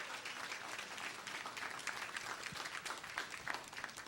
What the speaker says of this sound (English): Let's give the church a big round of applause.